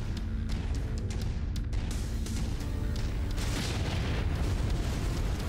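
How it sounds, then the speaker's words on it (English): Artillery explosions in the MechWarrior 5 video game: a continuous dense rumble of booming blasts and crackling bursts, loud and sustained throughout, with no voices. "I do not trust artillery."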